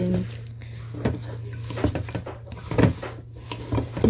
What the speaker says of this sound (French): On va remuer pour qu'on retrouve les prunes cachées dans le fond du